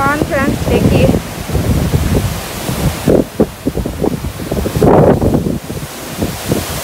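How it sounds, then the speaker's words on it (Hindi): Strong storm wind gusts hard and loud outdoors, a steady broadband roar that surges in bursts, with people talking over it. "कितना आंधी तूफान है"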